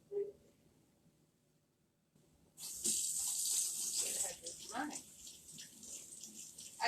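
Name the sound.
pouring half cup of warm water into meatloaf mix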